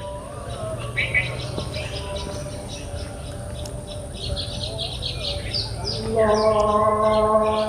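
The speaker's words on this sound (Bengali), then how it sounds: "আশেপাশের যে পাখির কিচির মিচির বা বিভিন্ন শব্দ আসে কি না" Birds chirp and twitter in scattered short calls around an outdoor spot, fairly distant and soft beneath a steady background hiss and hum.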